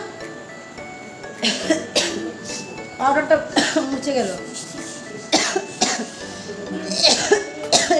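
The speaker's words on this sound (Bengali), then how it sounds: "কাশিটা না খুব খারাপ" Several harsh coughs break out at intervals while a person talks, the coughing close and rough between stretches of speech.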